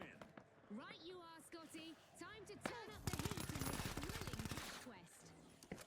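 Rapid automatic gunfire from a shooter video game, a dense burst of shots lasting a couple of seconds alongside other sharp game effects, with a player's voice talking over the action.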